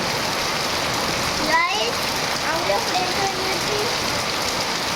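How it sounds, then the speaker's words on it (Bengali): Steady rain falls nearby in a constant, even hiss of drops on surfaces, with a brief higher sound partway through. "দেখতেই পেলে বৃষ্টি কিন্তু নেবেও গেছে"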